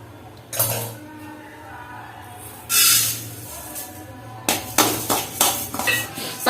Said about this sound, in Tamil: இதே மாதிரி பாசி பருப்பையும் லைட்டாக வறுத்துக்கலாம்